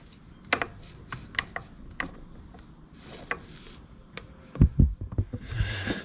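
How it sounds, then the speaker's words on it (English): Torque wrench tightening the oil drain plug on a Vespa GTS 300 HPE scooter: a series of close ratcheting clicks at an uneven pace, followed by louder clunks and rattles near the end. "Then I'm going to get my torque wrench."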